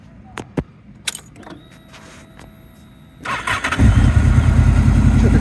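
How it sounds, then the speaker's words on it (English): Honda VFR800 V-TEC motorcycle with an Arrow exhaust: a few clicks and a whirring starter, then the engine catches and settles into a loud, close, steady idle rumble. "Typical Honda, starts and sounds lovely"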